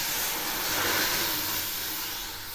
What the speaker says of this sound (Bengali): এখন আমি এর মধ্যে জল দিয়ে দিলাম।